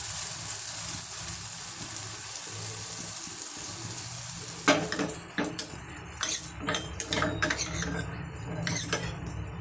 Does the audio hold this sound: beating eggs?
yes